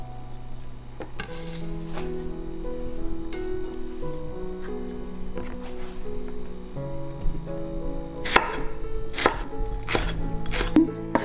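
Knife chopping Korean glass noodles (dangmyeon) for japchae on a board, a steady run of close, crisp cuts with sharper, louder strikes near the end over faint background music.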